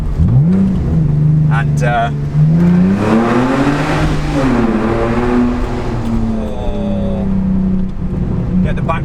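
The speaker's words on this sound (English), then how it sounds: "I'm just going to drop it into second. Actually, forget that. Let's drop it into first." A straight-piped car exhaust revs in first gear inside a tunnel, a loud, continuous engine drone that swells and falls in pitch throughout, with a voice heard briefly over it.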